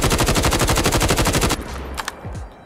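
GRAU 5.56 assault rifle in COD Mobile firing full auto: a fast, loud, even burst of about twenty shots for a second and a half, then clicks and metallic reload clatter.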